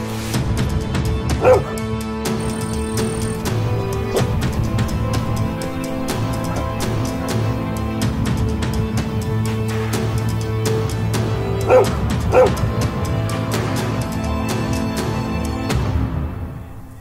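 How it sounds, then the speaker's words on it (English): Feral dogs in Indian fox habitat yelp, whimper and bark in short bursts over a continuous musical score, the calls moderately close and scattered through the stretch. "The lark attracts the attention of feral dogs."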